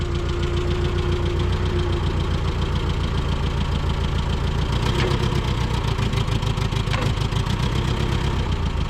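A small engine runs on choke, close and loud, with a fast, rough, steady chugging that never lets up.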